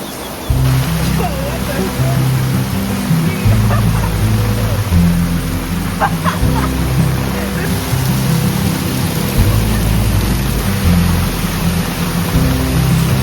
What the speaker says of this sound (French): quand je vous dis qu'il pleut, c'est qu'il pleut